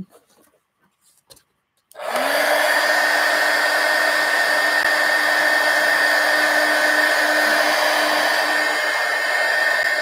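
A hair dryer switches on after a couple of seconds of near silence and blows steadily and loudly to dry ink on a journal, a continuous close whooshing roar with a faint tonal whine.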